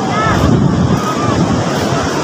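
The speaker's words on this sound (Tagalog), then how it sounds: "Lakas kasi ng alon, no? Ang lalaki na ng alon." Strong ocean waves crash and churn on a shore, with a loud, rough roar buffeted by wind on the microphone, while a voice talks faintly underneath.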